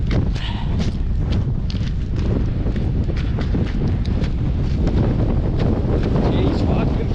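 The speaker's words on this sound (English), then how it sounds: "She's breezy today, lads." Strong, steady wind buffets the microphone outdoors in hunting country, a continuous loud rushing roar with gusty swells and no clear break.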